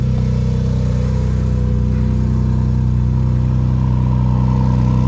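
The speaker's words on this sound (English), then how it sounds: "As you can hear, it's pretty loud in here. It's a stock exhaust, but it's still pretty bloody loud." Heard from inside the cabin, a Porsche GT4 RS Weissach on its stock exhaust runs at a loud, steady idle with a constant low drone throughout and no talk.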